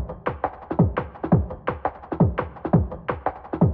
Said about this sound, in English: Add on reverb and auto filter for the vibes.